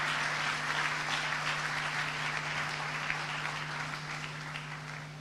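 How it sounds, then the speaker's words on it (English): A rousing round of applause greets Minister of State Franklin Witter as he walks to the podium at a World Food Day event, a dense, steady wash of clapping from the audience over a faint constant hum, fading slightly toward the end. "give Honorable Franklin Witter, Minister of State in the Ministry of Agriculture, Fisheries and Mining, a rousing round of applause as he comes to the podium"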